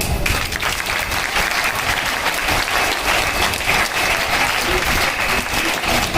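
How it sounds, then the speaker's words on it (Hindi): A school assembly crowd in Ghaziabad claps loudly with raised hands, a full, sustained wash of applause holding steady for about six seconds. "आप सब एक बार हाथ उठा के जरा जोरदार तालियां बजाएं"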